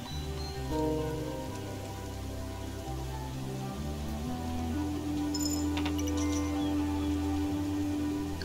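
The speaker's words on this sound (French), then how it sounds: "Il pleut souvent hein, sur cette île" Steady rain in the video game Kingdom Two Crowns patters continuously over a low droning musical backdrop, soft and even with no talking.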